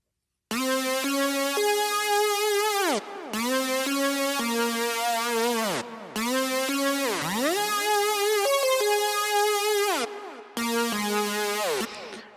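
A bright, buzzy unison synthesizer lead made in Sytrus playing a melodic phrase with gliding pitch bends, loud and close, in four sections separated by brief gaps.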